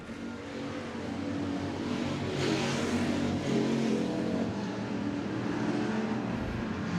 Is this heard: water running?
no